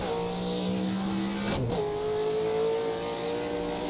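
Race car engine in the Assetto Corsa driving game at the Nürburgring, droning loud and steady with a sharp drop and shift in pitch partway through, then holding at a higher, even tone.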